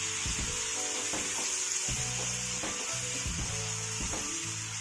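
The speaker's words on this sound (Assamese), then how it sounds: "এতিয়া পিঁয়াজ ফ্ৰাই কৰি মই আপোনালোকক দেখুৱাই আছোঁ" Onions fry in a pan for a masala fish curry, a steady loud sizzle with a rhythmic series of stirring scrapes and clinks.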